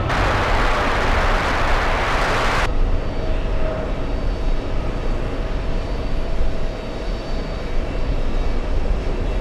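A heavy Boeing 787 jet landing on runway 22 left at JFK, a loud, broad, continuous engine roar that holds steady throughout, with a bright upper hiss at first that then drops away.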